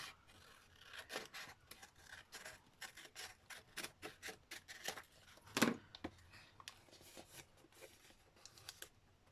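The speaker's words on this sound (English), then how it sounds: "but we'll trim it a bit." Scissors trimming paper for a junk journal storage box, heard as a quiet series of close, rhythmic snips and rustles with one louder crisp cut partway through.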